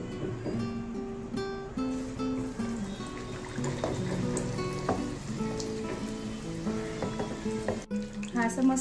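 Potato-stuffed Sangam vadas deep-fry in hot oil, a continuous bubbling sizzle mixed with clinking kitchen sounds and a voice talking faintly in the background.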